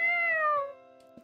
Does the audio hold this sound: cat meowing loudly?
yes